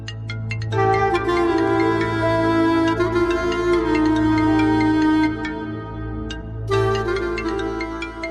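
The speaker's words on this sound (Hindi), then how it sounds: "वासे का फोन बज रहा है।" A mobile phone rings indoors with a steady, tonal melodic ringtone that plays on continuously and fairly loud, with a short pause partway through.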